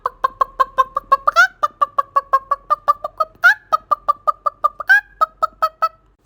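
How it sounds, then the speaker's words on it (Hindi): A hen clucks in a rapid, steady series of short calls, with a few louder squawks breaking the rhythm, close and clear with no talking. "लगता है मुर्गी अपना अंडा ले रही है"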